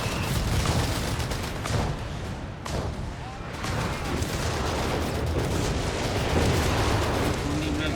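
An artillery barrage pounds steadily in the Company of Heroes 3 video game, with dense overlapping explosions and gunfire forming a loud, continuous roar under a commentator's voice.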